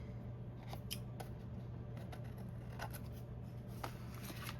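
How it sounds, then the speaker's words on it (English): Scissors snip off the edges of a quilting scrap project, with repeated sharp cutting strokes spread across the stretch over a steady low background hum, and no talking. "we have some edges to cut off here, right here"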